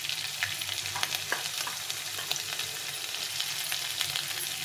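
Crushed ginger hitting hot frying oil gives a steady, dense sizzle with crackling pops, close and continuous, with no voices.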